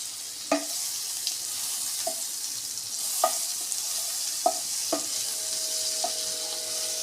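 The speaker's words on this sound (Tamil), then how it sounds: "இப்போ மறுபடியும் ஒரு கியூப் பட்டர் போட்டுக்கணுங்க." Butter sizzles with prawns in a frying pan, a soft continuous crackle broken by several sharp clinks of a utensil stirring against the pan.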